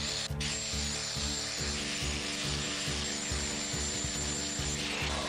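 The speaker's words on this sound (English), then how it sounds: "And then I started to shape it with this sanding disc." A sanding disc grinds steadily while shaping a homemade axe head, a loud continuous whir with a rhythmic pulsing undertone, close up and alone without talk.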